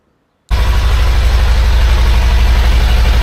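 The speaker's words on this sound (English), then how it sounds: "So the bike starts up, no problem at all." A motorcycle engine, a Suzuki Bandit with freshly worked carbs, cranks and catches abruptly after a brief silence, then settles into a loud, steady, close idle with a continuous throbbing rumble.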